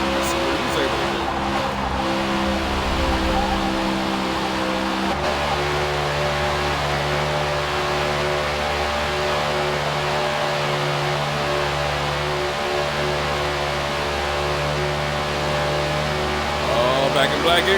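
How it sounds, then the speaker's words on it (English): Race car engine at speed on an oval's backstretch during a tribute race, a steady loud drone with a pitch shift as it spools slightly higher, a commentator talking over it throughout. "That engine kind of spool up just a little bit higher down the backstretch."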